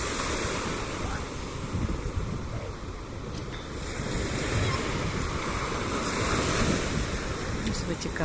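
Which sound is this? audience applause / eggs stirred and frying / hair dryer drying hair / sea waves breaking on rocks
sea waves breaking on rocks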